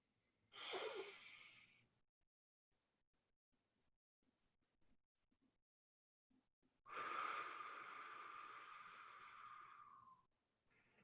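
A person demonstrates a slow calming breath as an exercise against nerves: a sharp audible inhale through the nose, a silent hold of several seconds, then a long, steady breath out through the mouth, close and alone.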